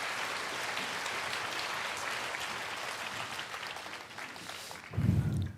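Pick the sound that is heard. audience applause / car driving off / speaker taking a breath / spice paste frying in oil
audience applause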